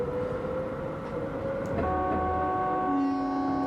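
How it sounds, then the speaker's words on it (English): A deep, meaty train horn from the Densha de Go! Yamanote Line arcade train game, sustained tones layered over steady running rumble, swelling in the latter half with a second higher tone joining. "it's got this kind of meaty horn"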